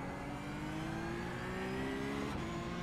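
A Porsche Cup race car engine in the iRacing sim at Hockenheim holds a steady, rising rev with a gearshift-like break near the end, loud and continuous with no talk.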